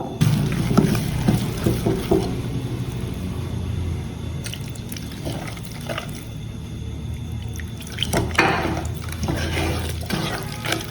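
Water being poured and mixed into a thick jackfruit batter in a bowl, giving irregular wet drips, squelches and splashes. Louder bursts come toward the end, with no talking.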